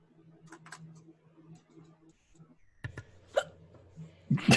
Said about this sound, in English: Those hiccups are hilarious.